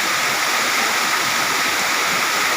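Waterfall rushing at Engkanto Falls in the middle of a river, heard as a loud, steady, broadband roar of falling water close by with no talk.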